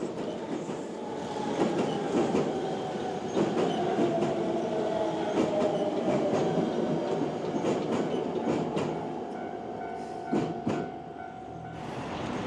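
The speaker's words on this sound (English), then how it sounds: "Trains cross over the river on a charming little bridge right next to the station." A train rumbles past steadily over a small river bridge beside a station on Japan's Hankyū Imazu Line, with rhythmic clacking of wheels over joints and occasional metallic squeals, a continuous rolling roar lasting throughout.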